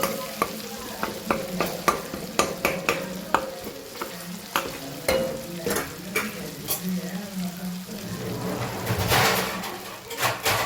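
Cumin seeds fry in hot oil in a home kitchen, a continuous crackling sizzle with regular sharp clinks of a stirring spoon against the pan.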